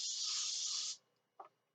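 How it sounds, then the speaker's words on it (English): Cooking spray is sprayed into a cake pan for a pineapple upside-down cake, a single steady aerosol hiss lasting about a second, followed by two soft knocks of the pan being handled. "take my cake pan and spray it"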